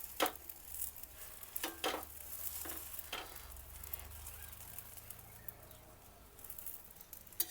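Ghee frying pav on a hot griddle for dabeli, a soft steady sizzle broken by scattered scraping clicks from a spatula, close and fairly quiet.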